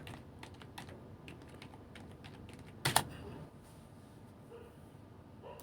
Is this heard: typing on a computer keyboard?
yes